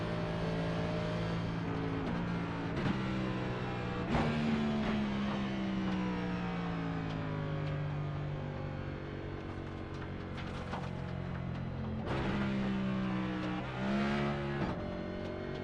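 Gen 7 Cup race car at Charlotte in a racing video game, a steady engine drone with shifting pitch, revving up and easing off through gear changes, with no voices.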